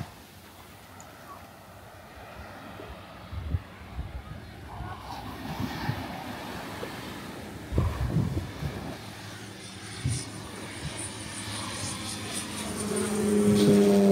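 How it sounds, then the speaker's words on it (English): A propeller airplane passes over Maho Beach on Sint Maarten, its engine drone rising louder toward the end over steady wind and surf, with people talking nearby throughout. "Actually, yeah, plane's actually coming."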